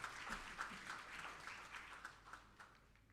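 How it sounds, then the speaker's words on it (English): Faint, distant round of applause from delegates at a Commonwealth Hansard Editors Association Africa conference in Ghana, a soft steady patter of clapping with no speech over it. "Shall we please give them a round of applause?"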